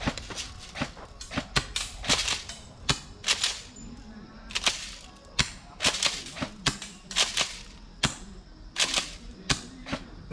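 A G&G airsoft gun fires six BBs at once in repeated sharp snapping cracks, irregularly spaced and fairly close, over quiet outdoor background at a survival game.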